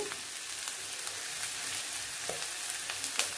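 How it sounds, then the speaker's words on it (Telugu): Chili powder tipped into hot oil for an egg curry, giving a steady soft sizzle with faint crackles and a few sharper spits near the end, fairly quiet and with no voices. "కారం వేస్తున్నానండి"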